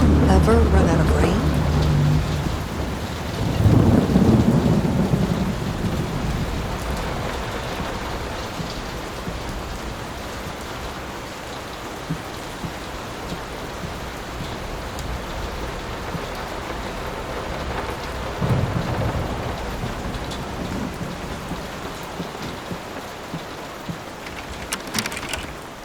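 Steady rain and rumbling thunder in the video game Layers of Fear, a continuous downpour with louder thunder swells near the start and again later.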